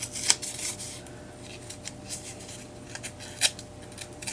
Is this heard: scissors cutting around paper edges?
yes